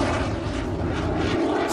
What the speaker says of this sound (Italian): il pilota accelera a pochissimi metri dal suolo e fa decollare nuovamente l'aereo senza atterrare